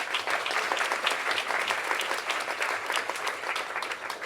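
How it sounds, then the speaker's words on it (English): A conference audience gives the panelists a big round of applause, steady and fairly loud clapping from many hands continuing without a break. "So a big round of applause for our panelists."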